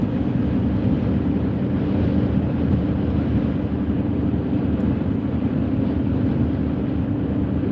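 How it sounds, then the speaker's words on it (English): Steady roaring wind buffets the microphone, a dense low rumble that never lets up, with no other clear sounds standing out. "It's a windy day."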